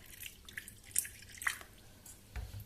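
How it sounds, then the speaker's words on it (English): Water is poured from a tap into a bowl of cornstarch, giving a few faint, close drips and small splashes spaced irregularly, with no talking. "I have some cornstarch in a bowl. I'll add in water."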